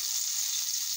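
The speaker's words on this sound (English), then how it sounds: "you know that fish frying there" Wolf fish sizzling and frying in hot oil in a pan outdoors in Trinidad, a bright steady crackling hiss, close and continuous.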